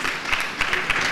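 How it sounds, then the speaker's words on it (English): A conference audience applauds panelists at a public finance discussion, a brief burst of scattered hand clapping with uneven claps rising and falling. "let's clap for the panelists once again"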